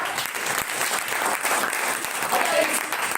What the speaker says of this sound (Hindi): अच्छा चलिए ताली बजाइए सब